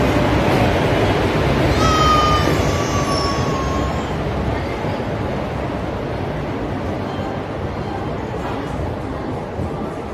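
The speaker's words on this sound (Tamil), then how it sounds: "இங்க ட்ரெயின் வந்தாச்சு." A train rolls in with a steady, loud rumble of wheels on track, and a high metallic squeal rises briefly near the start.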